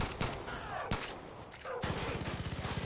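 Bursts of gunfire from Far Cry 5: sharp shots early, then a rapid, rhythmic automatic volley that runs steadily to the end, loud and close.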